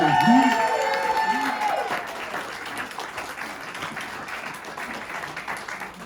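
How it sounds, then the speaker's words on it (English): Comedy club audience applauding at a stand-up show, broad steady clapping from a crowd under a voice that fades out early, continuing evenly at moderate volume. "let's give her a big round of applause."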